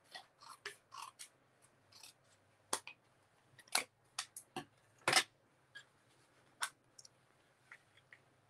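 Scissors snip at paper card in a string of quick, crisp cuts, some louder and closer than others, with quiet pauses between them in a calm tabletop setting.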